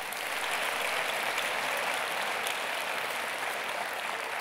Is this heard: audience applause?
yes